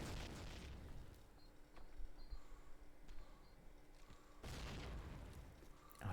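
A grenade explosion in the World War II shooter Call of Duty United Offensive during a multiplayer match, two deep booming bursts, one at the start and one near the end, with a faint rumbling stretch between them.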